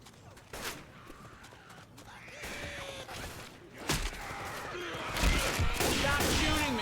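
Gunfire in the video game Left 4 Dead 2 rattles in repeated bursts that grow denser and louder toward the end, mixed with game effects and voices speaking.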